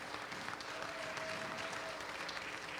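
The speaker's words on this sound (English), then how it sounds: "Give a very big round of applause for all of our sponsors that make the festival happen." An audience applauds festival sponsors at a film screening, a steady, dense patter of clapping hands holding at an even, moderate level throughout.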